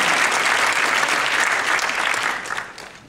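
A dense burst of audience applause at a concert and cultural heritage evening, loud and continuous before tapering off toward the end.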